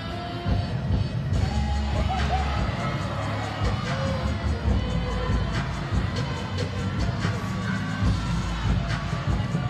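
A crowd cheers and murmurs in a gymnastics arena during a floor routine, a steady, roomy roar with occasional whoops.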